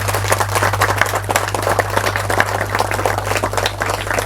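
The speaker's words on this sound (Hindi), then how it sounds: "हम सब ताली बजाकर परमेश्वर की स्तुति करेंगे।" Congregation at a Hindi-language church service clapping hands together in praise, a loud steady stream of many overlapping claps with a low hum underneath.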